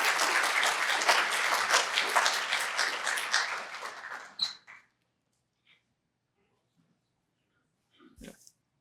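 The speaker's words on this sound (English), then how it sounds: "join me in a round of applause to her" An audience at an academic milestone ceremony gives a round of applause for Marie, a full steady clapping that fades out around four seconds, followed by near silence and a faint thump.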